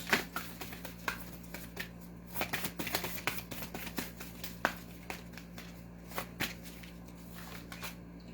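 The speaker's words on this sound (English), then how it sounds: "Two more shuffles." Playing cards being shuffled in repeated quick riffles, crisp papery bursts with short pauses between, close up under a steady low hum.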